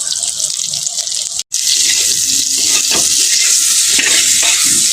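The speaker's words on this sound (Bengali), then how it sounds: "এখন আমি বেগুনটাকে একটু ভেজে নেব।" Eggplant seasoned with salt and turmeric fries loudly in a pan, a dense close sizzle with stirring scrapes, cut by one brief silent gap near the start.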